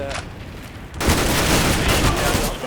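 A flashbang grenade going off in the CS:GO video game, with a sudden loud burst after about a second followed by a sustained bright ringing wash, and a quieter stretch with talk-like sound before it.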